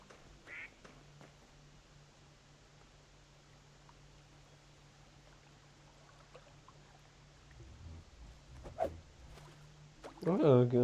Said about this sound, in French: Ouais, un canard.